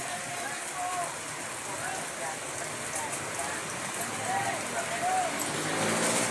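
Steady heavy rain falls during a typhoon, making a dense, continuous hiss that grows slightly louder toward the end, with faint voices or bird-like chirps in the background.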